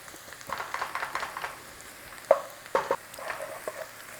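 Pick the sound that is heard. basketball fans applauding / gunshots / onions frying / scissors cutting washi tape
onions frying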